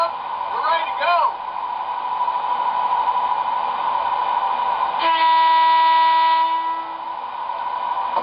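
A Lionel 381SS Standard Gauge electric locomotive model's sound set plays: a hissing, whirring mechanical run with warbling tones early, then a sustained horn-like chord sounding for a couple of seconds near the end.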